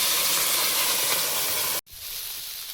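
Water poured into a hot pan, a loud, broad hiss of steam that cuts off abruptly, then resumes as a quieter, steadier sizzle.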